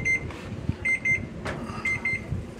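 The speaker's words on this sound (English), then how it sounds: "as you can hear, the timer's gone off" Electronic kitchen timer beeping in repeated short bursts while a Southern sweet potato pie with sweetened condensed milk bakes in the oven, clear and fairly close with no talk.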